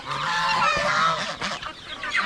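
Farm geese honk loudly and repeatedly at close range in the morning, several calls overlapping into a noisy, continuous chorus.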